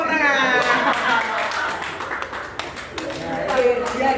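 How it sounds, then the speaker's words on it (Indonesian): Classroom of eighth-grade students clapping their hands together, a brief burst of scattered claps layered over a teacher's speech and background chatter. "Tepuk tangan."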